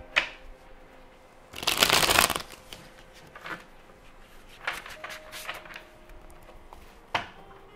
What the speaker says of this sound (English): One more shuffle, please and thank you.